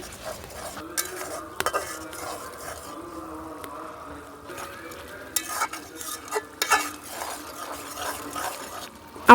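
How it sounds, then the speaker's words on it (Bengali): Spices with salt, turmeric and chilli powder being stirred and fried in a pot in a village kitchen, a spoon scraping and clinking against the metal over a soft, steady sizzle, with no talking. "এখন মিক্সড করে ভালোভাবে কষিয়ে নেব কিছুক্ষণ"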